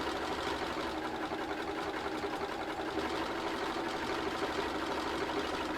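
A sewing machine runs a steady top stitch down a long seam, a continuous even motor whir with rapid needle rhythm, close and unbroken from start to finish.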